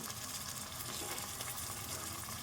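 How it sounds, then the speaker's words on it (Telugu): Fish pieces coated with salt and chili powder fry in a pan for a Telangana-style fish curry, giving a continuous, even, fairly loud sizzling hiss. "ఈ ఉప్పు కారంతో కూడా ఇవి మంచిగా వేగుతాయి"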